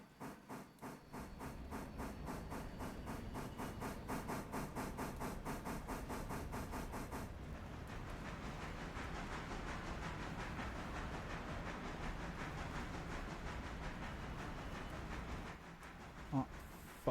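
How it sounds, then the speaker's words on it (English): A steam passenger train pulls out of Dillsboro station in the railroad game Railroader. It gives steady, rhythmic chuffs at first, then the beat dissolves into a continuous hissing rumble, with no voices. "that passenger train's leaving Dillsboro now"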